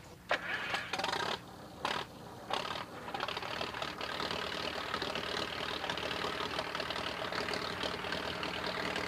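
A heavy tractor engine, the center one of a rubber-tired triple tractor, cranks with a few sputtering bursts, catches, and settles into a steady rumbling idle close by.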